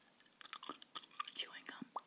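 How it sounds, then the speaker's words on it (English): Close, soft chewing of Wrigley's Doublemint gum, with wet, irregular smacks and clicks mixed with quiet whispering. "Here's the gum I'm chewing today, by the way. Wrigley's Double Mint"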